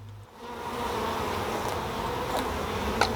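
Packaged honeybees buzz steadily at a hive with a reduced entrance, a dense, close swarm hum holding at even loudness throughout with a few brief sharper flicks of individual bees.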